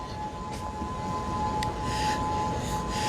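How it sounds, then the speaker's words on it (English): Steady tsunami warning civil defense sirens drone continuously in the distance at Waikiki Beach, Hawaii, sounding over broadband outdoor noise and wind. "Can you hear the tsunami sirens?"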